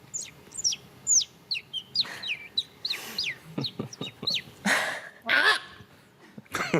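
A human voice imitates bird calls: a run of quick, high chirping whistles, then two loud, harsh, rasping squawks in the manner of a grey heron, close and alone with no talking.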